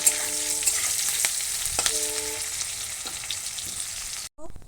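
Onions frying in oil for a potato and prawn dish, a bright continuous sizzle with a few sharp spatter pops and brief tonal squeaks, close and steady before cutting off abruptly near the end.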